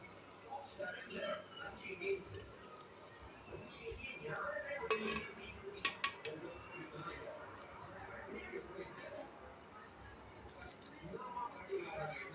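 Rice and lentils stirred in a clay pot, giving a steady run of scraping and light clinking from a utensil against the earthenware, moderately close, with a few sharper knocks partway through.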